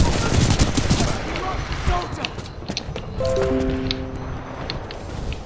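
Scattered gunfire rattles through a Titanfall 2 firefight inside a building, quick bursts mixed with game effects while a player talks over the action.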